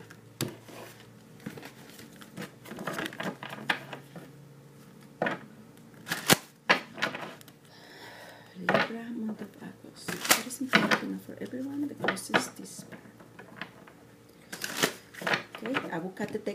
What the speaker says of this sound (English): I will cut the deck in three parts now.